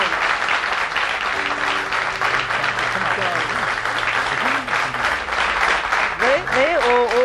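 A crowd at an outdoor televised event in Tunceli applauds a folk song performer, with steady applause throughout and a voice talking over it.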